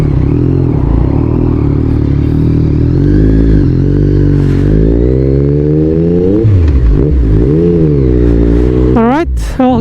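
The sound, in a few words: Yamaha MT09 motorcycle riding and revving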